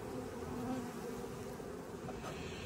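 Honey bees hum steadily around an open backyard hive with foundationless frames, a continuous soft, low drone close by with no other sounds.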